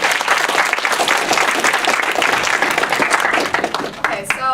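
Audience clapping for a speaker, full and lively with dense overlapping claps that thin out toward the end, with a voice starting to speak as it fades.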